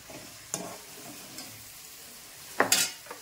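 Chicken leg pieces fry in a pan with soft sizzling and a few sharp stirring or spattering bursts, the loudest near the end, otherwise a quiet, low crackle.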